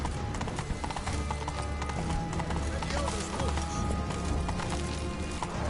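Hoofbeats of Roach, a horse in The Witcher 3: Wild Hunt, clip-clop in a steady galloping rhythm, close and loud across the whole stretch, laid over a dense ambient bed with voices talking.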